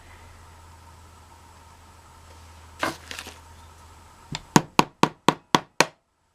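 A few loose strikes, then six sharp, evenly spaced hammer blows crack against the glass part of a doll, loud and close, over a low steady hum.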